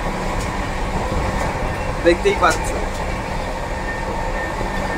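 A Sealdah–Bikaner Duronto Express with LHB coaches runs along as a continuous rumble. A brief squeal and clatter comes in the middle, and a voice speaks briefly over it.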